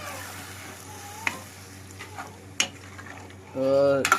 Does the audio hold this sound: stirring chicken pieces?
yes